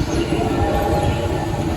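A theme-park train at Knott's Berry Farm rolls past close by as a dense, steady rumble that holds at an even loudness throughout the short moment.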